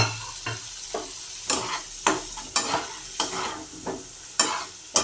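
Boiled hog plum stir-fried in oily masala for an egg malai curry, heard as rhythmic spatula strokes roughly twice a second, each a scraping swish over a soft sizzle.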